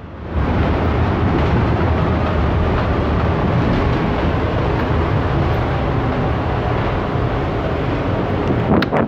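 A Belgrade city tram runs along with a loud, continuous rumble and rattle that barely changes for the whole stretch. It sounds close, as if heard from inside the carriage. There is no talking.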